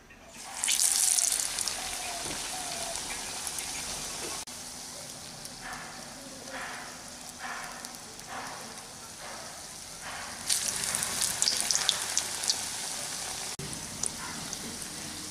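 Urad dal vadas deep-fry in oil over a medium flame with a continuous soft bubbling hiss, swelling in brief louder bursts now and then.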